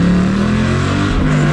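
Engine of a manual-transmission car revving up close by, a loud sustained drone with pitch steps rising and shifting, alone without talk.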